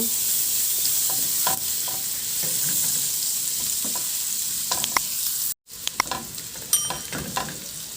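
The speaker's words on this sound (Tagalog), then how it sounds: "Igisa ko na yung bawang." Garlic sautéing in oil and butter in a pan, a steady frying sizzle with occasional clinks and stirring scrapes, one brief dropout, no voices.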